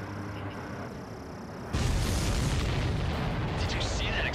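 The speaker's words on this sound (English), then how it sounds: "Did you see that explosion? Looks like that's one of them down." A missile strikes a supply ship in the combat flight game Ace Combat 7, setting off a sudden loud, sustained roaring blast that swells and continues under radio-style voices and engine noise.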